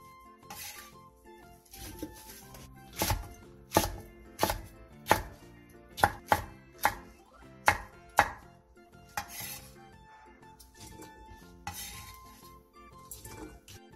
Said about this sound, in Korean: 중간 사이즈 양파 4개, 사과 1개, 홍고추 20개를 갈기 좋은 크기로 큼직하게 잘라주세요.